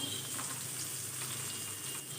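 Turmeric and other ground spice powders frying in hot oil with tomato, a continuous dense sizzle at moderate level throughout, no voices.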